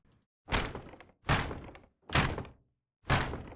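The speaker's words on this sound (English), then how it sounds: "So we have a hit sound for the chest" Four heavy, crunchy impacts land one after another with short silences between, each a punchy thud with a brittle crackling tail: a chest being struck in the video game MouseHaunt.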